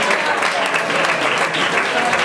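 An audience claps steadily for a volunteer called up on stage, a dense, even applause that fills the room at close range.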